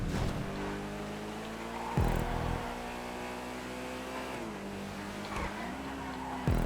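Engine of the Tauros car in GTA 5 during a race lap, a steady droning hum with shifting pitch as it holds speed, short bursts where the revs change, continuous and close.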